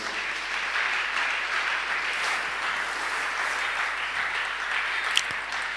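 A church congregation applauding and cheering in praise, steady dense clapping filling the room, with a single sharp clap standing out near the end.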